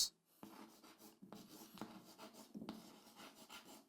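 Writing on a classroom board during a lesson: close, scratchy strokes in short bursts separated by brief pauses, with no talking.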